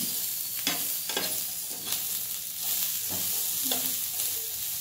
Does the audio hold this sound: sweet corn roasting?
yes